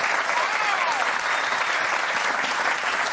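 A studio audience applauds steadily throughout, a dense, even wash of clapping from a crowd at a French television debate show.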